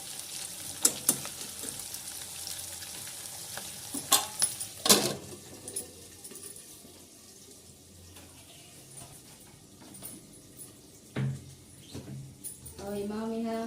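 Cauliflower and potato curry frying in a pan, a soft steady sizzle with scattered sharp clinks and scrapes of a spoon against the metal, voices talking intermittently over it.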